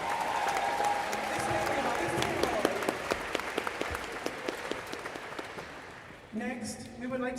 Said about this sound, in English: A round of applause for them as well.